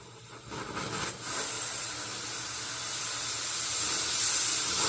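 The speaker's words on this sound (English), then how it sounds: "I went to burn my hole and then I hit something." A cutting torch roars with a steady, loud hiss while burning a hole through the steel firebox of a trailer BBQ smoker, up close and continuous, with no speech.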